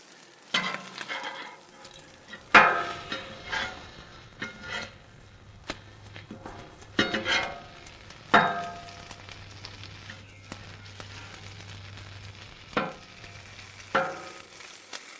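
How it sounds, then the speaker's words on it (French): Food sizzles steadily on a Blackstone griddle with burners at medium-high, a constant close frying hiss broken by sharp spatula scrapes and taps against the flat steel top every couple of seconds. "Je cuisine sur une plaque à griller Blackstone aujourd'hui, avec les 3 premiers brûleurs à feu moyen élevé"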